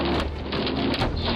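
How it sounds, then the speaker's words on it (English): Heavy, dense hail pelting a car during a tornado in Indiana, a continuous loud drumming roar with sharper impacts scattered through it. "caught in the crossfire of the hail that precedes the second tornado"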